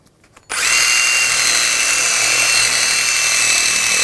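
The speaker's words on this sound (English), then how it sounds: "Now I'm going to use a wire brush, clean up the hub surface, get any corrosion or rust off." A power-driven wire brush whirs loudly and steadily against the rusty rear brake hub of a 2007-2013 BMW 328i, starting abruptly after a brief quiet moment and running without pause, close up.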